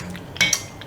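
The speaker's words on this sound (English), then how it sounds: "You want to grab a clean spoon, mix it around first real quick" A clean spoon stirs yellow rice with pigeon peas, olives and brine, giving a couple of quick metallic clinks and scrapes against the pot at close range.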